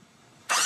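A Harley-Davidson motorcycle engine bursts in abruptly after a near-silent moment, a loud, dense roar that holds steady to the end.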